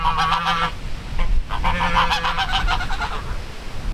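A flock of geese honks loudly and close by, with repeated overlapping nasal calls in bursts and a short lull partway through.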